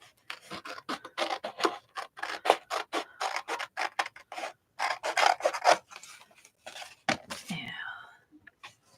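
Scissors cut paper for a pocket in a composition-book journal, a long run of close, crisp snips and rasping strokes in irregular bursts, with a soft whispery voice briefly at the end.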